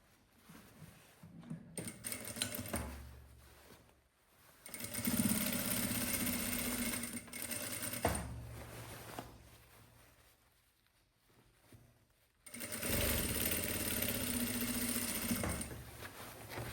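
A sewing machine stitches the side seam of a white school uniform dress in three bursts of steady, rapid whirring, with short quiet pauses between runs and no voices.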